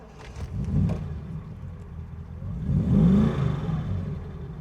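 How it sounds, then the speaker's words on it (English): A 1970s Triumph Stag classic British sports car engine runs close by, with a steady low idle that swells into revs near one second and again around three seconds, ending on a throaty rumble. "You are gonna die and go to heaven when you hear this engine."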